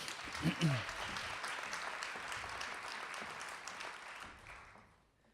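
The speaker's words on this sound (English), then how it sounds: "Another round of applause for Matt Soderquist." Audience applause at a true-stories storytelling event for a children's advocacy center, a dense wash of clapping with a brief whoop or cheer near the start, sustained then fading out toward the end.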